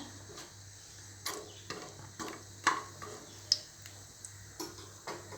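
Whole cinnamon, cloves and cardamom frying in hot ghee, giving faint crackles and scattered small pops and ticks over a low steady sizzle, close and quiet.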